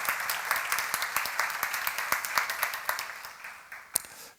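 Applause at a church seminar on the Book of Samuel, with sharp individual claps standing out over a wash of clapping hands, continuous and fairly loud before breaking off near the end.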